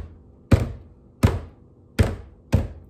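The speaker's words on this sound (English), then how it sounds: "bang the bucket for 20 seconds to release any air bubbles that may be trapped in the mixture" A bucket of mould mixture is banged against a surface to release air bubbles, four loud, evenly spaced hollow thuds about two-thirds of a second apart in a quiet room.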